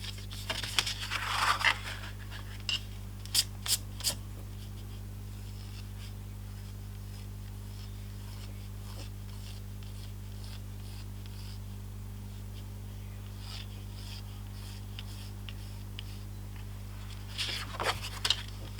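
A pen scratches across rough, textured watercolour paper while inking a detailed dog portrait, giving short dry scraping bursts near the start and end, separated by a long quiet stretch over a steady low electrical hum.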